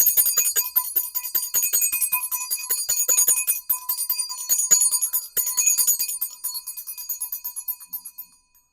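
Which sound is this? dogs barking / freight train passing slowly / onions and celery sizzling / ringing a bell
ringing a bell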